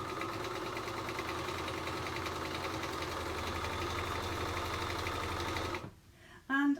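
A sewing machine with a 1/4 inch foot stitches fabric for a pouch, humming in a steady, fast, even rhythm close by before stopping abruptly, followed by a brief voice.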